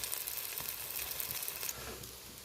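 Pumpkin flower fritters fry in a small amount of oil, making a steady, dense crackling sizzle that holds close and even, easing slightly toward the end.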